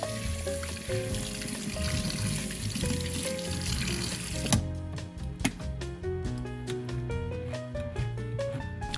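Cooking pot being washed under running kitchen water, a steady stream with clanking metal, then a sharp knock and a series of rhythmic clicks and taps as the pot is handled.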